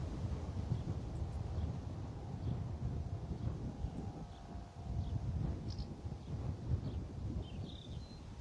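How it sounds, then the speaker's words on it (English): Wind roars steadily and loudly across a microphone at Bristol Airport, a continuous rumbling buffet with gusts rising and falling and no voices. "Just hope you can hear that wind and you don't think I'm drunk."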